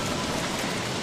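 Rain falls in the video game Don't Starve, a dense, steady hiss of downpour filling the short moment with no other sound.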